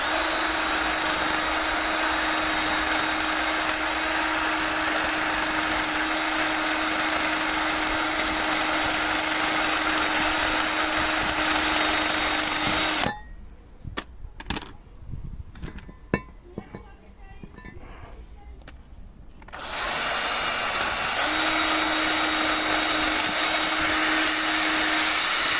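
Power drill spinning a wire brush to clean brake parts on a Jaguar X-Type, a loud steady whine with a constant hum that stops for several seconds of clinks and handling noises, then starts up again.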